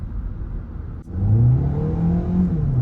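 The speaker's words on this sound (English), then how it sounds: "The shifts are like very, very jerky that it really pisses me off." A Hyundai Elantra Hybrid Blue accelerates, its engine rising in a loud rumbling whir from inside the cabin, with a sudden brief dip as a jerky gear shift breaks the pull before the revs climb again.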